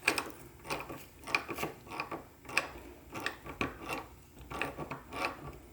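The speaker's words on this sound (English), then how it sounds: "use a wrench to hold this in place and a pair of pliers to spread this" Metal parts of a Hurst Competition Plus shifter rasp and click in short repeated bursts as pliers spread them while a wrench holds the assembly, close and fairly quiet, with no talking.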